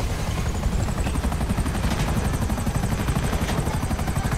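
A helicopter in GTA V Online thrums close and loud, its rotor producing a fast, steady chopping pulse over a constant engine whine throughout.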